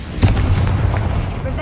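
Confringo fire spell blast in Hogwarts Legacy, a booming game explosion with a sharp onset followed by a rumbling low-end tail, loud and close, with no talk over it.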